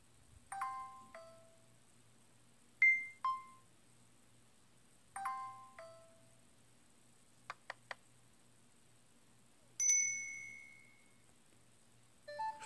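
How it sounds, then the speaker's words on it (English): Series of short electronic chime tones from a Samsung Gear S3 Frontier smartwatch, several distinct melodic notification sounds separated by pauses, plus a brief double click, fairly quiet and close. "You got the notification sound."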